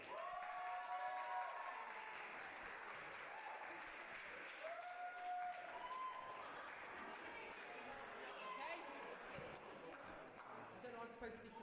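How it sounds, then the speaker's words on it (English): Audience applause at a 2019 journalism awards ceremony as an award presenter is welcomed, a continuous wash of clapping with voices and whoops over it, moderately distant and fairly quiet. "can we please give a huge, huge round of applause for Lisa Rowland"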